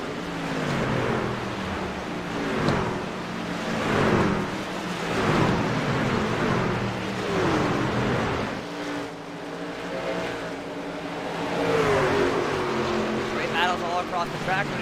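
Racing trucks in a Phoenix 100 Truck Series race on a PC racing game, engines swelling and fading in repeated passes over steady roar, with commentary talk running over them.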